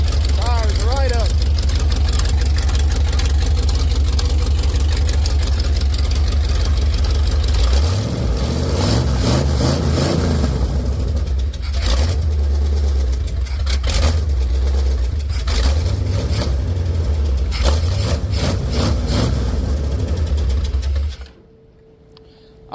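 A big block 440 engine in a Cushman build fires up for the first time, running loud and rough with repeated revs rising and falling close by before cutting off abruptly near the end.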